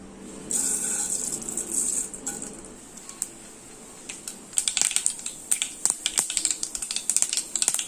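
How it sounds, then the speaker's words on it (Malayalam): Mustard seeds spluttering in hot coconut oil, a sizzling hiss that breaks into dense, irregular crackles and pops, loud and close, growing busier toward the end. "ഈ എണ്ണ ചൂടായി കഴിയുമ്പോൾ ഇതിലേക്ക് കുറച്ച് കടുക് ഇട്ട് കൊടുക്കാം."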